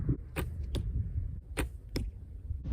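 Arrows strike an archery target in a practice session, four sharp thwacks at uneven intervals over a low, steady rumble of outdoor background noise.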